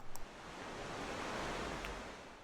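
A jungle waterfall pours in a continuous broadband rush of falling water, steady and fairly close, with a couple of faint brief clicks near the start.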